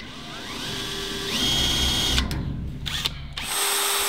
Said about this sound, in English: I think we need a drill.